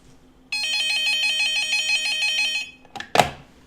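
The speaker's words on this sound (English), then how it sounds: "I'm getting a phone call." An indoor telephone rings with a warbling electronic trill for about two seconds, loud and near, then stops, followed by a couple of clunks and a handling noise.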